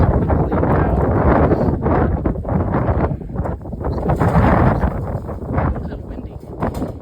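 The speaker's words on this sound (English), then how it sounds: "A little windy." Strong gusts buffet the microphone beside a barn being dismantled, a loud, rumbling roar that swells and eases, with a voice heard faintly through it.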